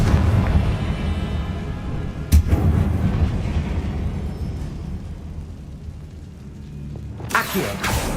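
Confringo blasting spell from a magic video game. Two sharp explosive bursts, one early and a louder, longer one near the end, sit over a steady low rumble of game noise.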